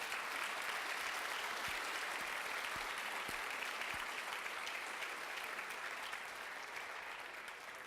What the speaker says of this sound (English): So a big applause to the panelists.